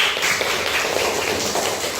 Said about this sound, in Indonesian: kasih tepuk tangan buat Dina